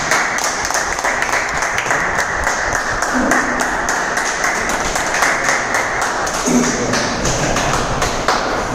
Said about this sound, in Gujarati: આપણે એમને મિનિમમ બધા એક સાથે તાળી પાડી ઊભા થઈને તાળી પાડી